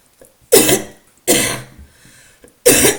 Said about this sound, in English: I've got this terrible cough the last few days.